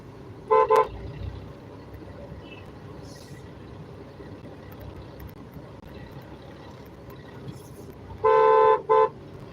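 Car horns honk in a night traffic jam caused by a diversion, with a short toot near the start and a longer double honk near the end, both fairly close over a steady rumble of engines and road noise.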